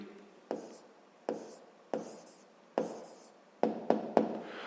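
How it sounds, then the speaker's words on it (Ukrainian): Pen on paper as an answer to a sixth-grade math exercise is written out by hand: a series of close, crisp taps and short strokes, evenly spaced at first and then quicker, with faint scratching between them and no talking. "тепер записуємо відповідь. Пишемо відповідь"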